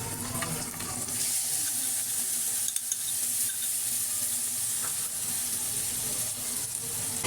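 Chopped onions with biryani masala sizzle steadily in a pan while mutton biryani is cooked at home. The frying hiss is continuous and close, with faint clinks and no talking.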